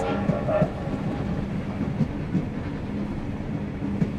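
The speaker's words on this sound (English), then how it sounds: "The train is slowing." A video game train in The Lion's Song slows down, rumbling steadily with occasional metallic clacks from the wheels on the rails, a continuous moderately loud drone.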